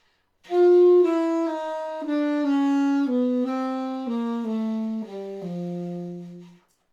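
A solo alto saxophone plays a smooth bebop enclosure run of sustained notes stepping downward, each note connected, ending on a low held tone.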